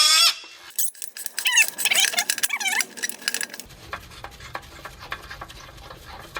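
Squeaks and creaks from a 14mm wrench working rusty exhaust flange bolts loose on a JDM Mazda FC3S RX-7, with a cluster of sharp, wavering squeals up close, then a quieter scraping patter.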